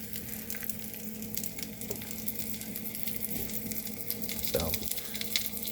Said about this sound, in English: that's the sausage patties. We're gonna let these cook